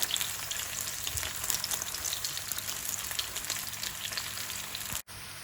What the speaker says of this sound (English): you fry the garlic. And lower the heat to 4.